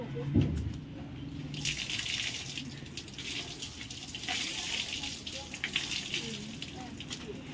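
Water pours steadily from a metal pot, a continuous splashing gush close by, with faint voices in the background.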